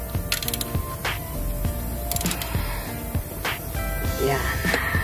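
A ratchet wrench tightens a bolt on an engine during an overheating repair, giving steady rapid clicking of the pawl over a busy, noisy workshop background, with someone speaking now and then.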